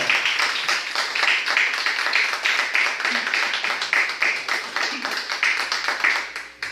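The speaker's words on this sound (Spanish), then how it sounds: "Démosle un aplauso al Señor" Church congregation applauding during a service, a loud, continuous burst of many hands clapping in quick rhythm for several seconds, with a few faint voices beneath.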